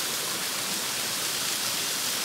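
Water pouring steadily down a waterfall beside a stone temple, a dense continuous rush of broadband noise with no pauses, heard alone and close.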